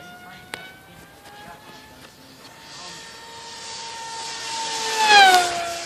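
An electric RC Grayson Hobby Monster Jet airplane flies past at speed with a thin, rising whine that swells louder and peaks near the end, heard from a distance outdoors with no talking.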